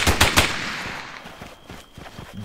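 5.56 rifle fire in the shooter game Breaking Point: a few sharp, close shots cracking in quick succession, followed by faint, scattered distant pops.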